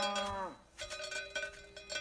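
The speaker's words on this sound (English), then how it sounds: "Take that cowbell off now!" A cowbell clanks a few times, bright metallic rings with a long tonal tail, fairly close and moderate in level, with no speech.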